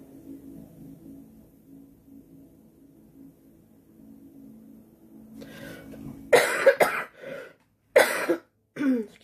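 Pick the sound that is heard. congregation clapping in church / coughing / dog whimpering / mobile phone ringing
coughing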